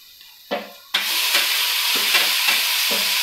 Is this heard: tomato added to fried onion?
yes